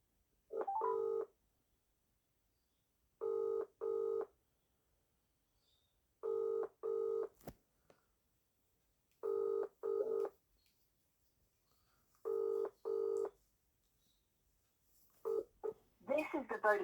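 A mobile call to a Vodafone number rings out with repeated paired electronic ring tones at steady intervals, clear and close through the handset, followed by a brief voice at the end.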